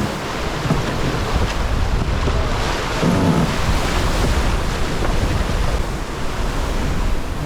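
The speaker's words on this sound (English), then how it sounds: "the winds are peaking, well, 20 knots now, true wind speed" Strong wind of about 20 knots rushes across a sailboat at sea in Icelandic waters, a steady, loud roar with gusts buffeting the microphone and waves washing against the hull, with no one talking.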